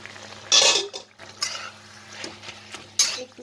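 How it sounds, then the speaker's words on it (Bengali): Metal lid clattering onto a pan of chicken keema simmering over a medium flame, with sharp clanks near the start and end and softer utensil knocks between, close and fairly loud. "এখন আমি ঢাকা দিই"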